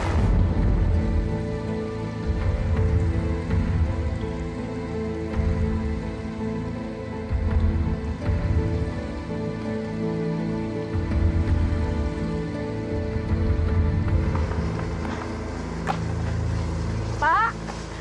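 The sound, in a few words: rain falling in a forest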